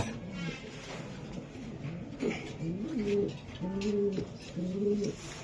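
Several racing pigeons, including young birds, coo close by in repeated rolling phrases, growing steadier and louder toward the end over a low background hum.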